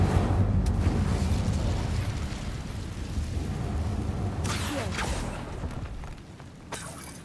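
An Incendio fire spell goes off in the Hogwarts Legacy game, a rough roaring burst of flame with crackling bursts and sharp bright flares near the end, loud and close with no talk.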